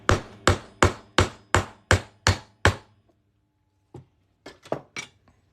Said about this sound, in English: I'm just going to hammer this through here